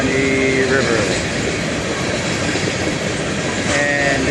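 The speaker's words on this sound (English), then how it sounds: "I can see the train coming on the old Suwannee River" A train rumbles along a railway beside the old Suwannee River, a steady broad roar of wheels and cars holding for several seconds, with brief squealing tones near the start and end.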